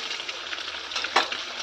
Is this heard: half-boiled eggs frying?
yes